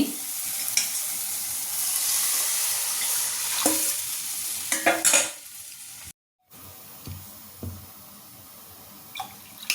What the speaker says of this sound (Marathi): आता मी ह्याचं जे पाणी होतं आपलं मटकीचं शिजवलेलं ते पाणी घालते